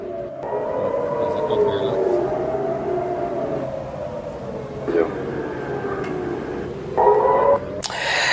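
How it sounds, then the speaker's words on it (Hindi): An air raid siren in Israel during a missile and drone attack, wailing in long rising and falling sweeps at moderate distance, with a brief burst of voices near the end. "तो ये देखिए सायरन बजती हुई तस्वीर है।"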